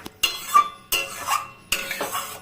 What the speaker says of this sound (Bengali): এখন মশলাটা ভালো করে কষাবো